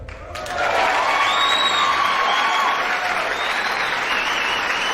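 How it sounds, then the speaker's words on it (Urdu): Audience applauding a guest of honour, Group Captain Fahim Khan, at a surprise-day event: sustained, dense clapping that swells in after a brief lead-in and stays loud and even to the end, with faint cheers underneath. "بہت ساری تالیاں ہمارے اس hero group captain Fahim Khan کے لیے۔"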